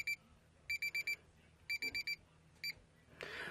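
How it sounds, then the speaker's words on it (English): A digital touch-screen meat thermometer timer beeps in quick bursts: a group of four rapid high-pitched beeps, another group of four, then a single beep, over faint background hum. "you're also going to be able to actually hear a beep here"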